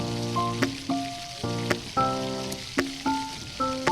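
Steady sizzling and crackling of koi fish frying in hot oil, with intermittent tonal hums rising and falling over the spitting noise.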